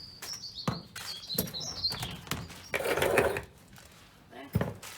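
Garden birds chirp at a bird table stocked with mealworms and peanuts, short bright tweets that come in bursts through the first two seconds, set among rustling and handling noises close by.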